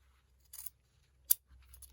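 Scissors cutting fabric for a blouse collar, two or three short crisp snips close by in an otherwise quiet room.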